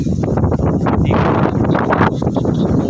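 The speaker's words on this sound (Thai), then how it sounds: "โอ้ลมแรงจัดตอนนี้ ลมฟ้าลมฝนจะมาแล้วมั้ง" Strong gusting wind buffets the microphone near water where a motor scooter has towed a small boat down for night fishing, a loud, steady roar with rushing swells and no speech.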